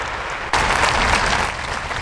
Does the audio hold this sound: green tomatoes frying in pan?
no